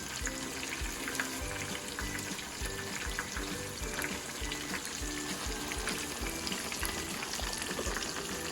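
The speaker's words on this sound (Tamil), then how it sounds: "மீனை கடாயில் போட்டு 5 நிமிஷம் ஆனதும் மீனை திருப்பி போட்டுக்கோங்க." Masala fish frying in a kadai pan over medium flame, a steady dense sizzle and crackle of hot oil that runs unbroken throughout, with no voices.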